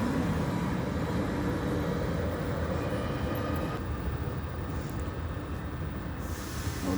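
A double train rumbles steadily through a city train station, a continuous loud rolling and hissing roar with no pauses, fading slightly toward the end.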